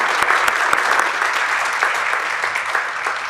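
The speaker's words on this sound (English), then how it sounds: "Please give Professor Tambu a round of applause." Audience at a poetry festival opening ceremony in Singapore gives sustained applause, a dense wash of many hands clapping at steady, fairly loud volume.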